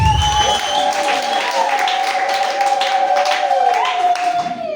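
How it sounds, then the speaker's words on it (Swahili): Church congregation clapping and applauding together during a sermon, a steady dense wash of claps over sustained music or a held tone, close and loud throughout. "Pigie Yesu makofi."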